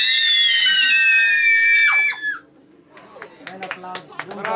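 A crowd at an event gives a loud, high-pitched collective scream on cue that holds for about two seconds and then cuts off sharply, followed by scattered shouts, claps and chatter.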